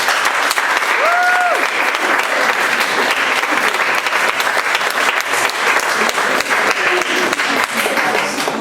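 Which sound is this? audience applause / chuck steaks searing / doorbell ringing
audience applause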